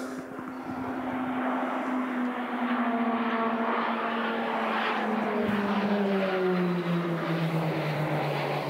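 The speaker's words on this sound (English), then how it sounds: "Roulette 1 will be flying inverted whilst Roulette 4 performs a corkscrew manoeuvre around the remaining members of the team" Roulettes PC-21 turboprop aircraft fly aerobatic manoeuvres overhead at an air force memorial event, a loud continuous propeller drone with a slowly falling pitch as the aircraft passes, heard alone without talk.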